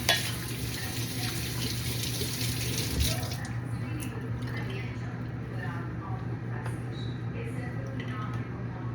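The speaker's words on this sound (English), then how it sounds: "let me wash my hands again." A kitchen faucet runs while hands are washed after making strawberry cheesecake balls, a steady moderate splash of water under a constant low hum, with a person talking over it at points.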